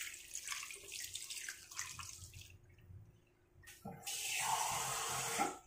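Water poured into a cooking pan while preparing pinangat na galunggong (round scad), with a splashing flow that begins about two-thirds of the way through after a quieter stretch of kitchen noise.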